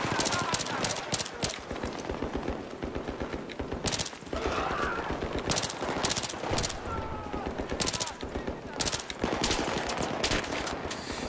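Rapid gunfire in the video game Battlefield 3, with dense bursts of automatic shots and sharp single cracks repeating steadily over about eleven seconds, loud and continuous with mechanical clatter.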